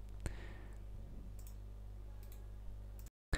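A sharp mouse click lands early as a Send button is pressed on an investment website, followed by a few fainter clicks over steady low hum, with no talk.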